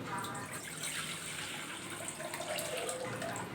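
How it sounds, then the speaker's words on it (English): Water pours steadily into a rice cooker used for canning mango pickle, a continuous splashing rush heard close up and alone. "Pour 1 liter of water."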